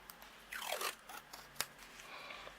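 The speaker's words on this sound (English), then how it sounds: "So I'm just taping it down." Washi tape is peeled and pressed down onto a card in a crafting session, giving close, quiet sticky tearing sounds and a small sharp snap.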